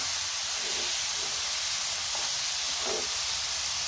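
Greens with dal tempering sizzle and hiss steadily in hot oil as they wilt down in the pan, a continuous close spattering frying sound with no voices.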